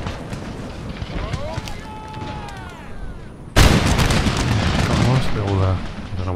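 Musket volleys and artillery from an Empire: Total War battle around 1719, a sudden loud eruption of massed firing midway through, with someone talking over the battle noise throughout.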